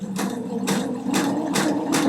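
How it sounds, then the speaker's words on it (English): A Pfaff Quilt Expression 720 sewing machine stitches, its motor humming steadily under a regular rhythmic thumping of the needle, about two strokes per second, close and fairly loud. "So now when I start sewing, of course it's going to stop with the needle down"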